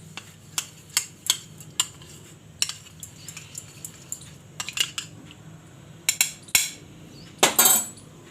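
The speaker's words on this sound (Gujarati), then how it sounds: "એકવાર હલાવી લેવું કસ્ટર્ડ પાવડરને" A spoon clinks against a metal pot again and again while custard powder is stirred into a badam shake, giving a string of sharp close taps with a quicker scraping rattle near the end.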